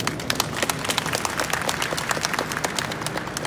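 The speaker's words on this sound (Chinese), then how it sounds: "给这在座的各位主厨人掌声鼓励一下" An audience at a press event in a railway station applauds the chefs, scattered individual claps standing out sharply over a lighter crowd of clapping, moderately close and fairly brisk.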